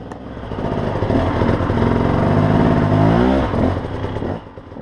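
A big adventure motorcycle on an off-road trials ride, with a flat battery, catches on the kickstarter and revs loudly and close by, rising and falling for several seconds before easing off.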